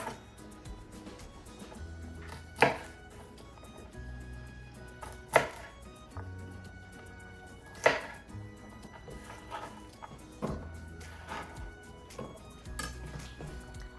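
A knife chops celery and carrots into small pieces on a cutting board for chicken matzo ball soup, giving soft steady taps with a few sharp louder knocks, close up, with no talk.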